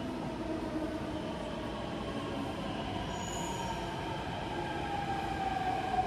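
A Delhi Metro Blue Line train at Noida Sector 34 station rumbles steadily on the rails with wheel squeal and a sustained tonal whine, a close, continuous sound with no voices.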